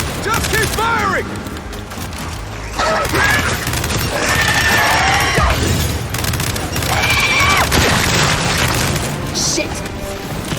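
Sustained gunfire and heavy booms during a Gears 5 firefight against a large creature, dense and loud throughout. Shouting voices and creature cries sit over the shooting.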